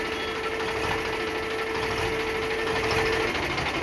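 An Eicher 548 tractor engine with power steering runs steadily, a constant close mechanical drone with a faint whine and no change in pace, and no voices.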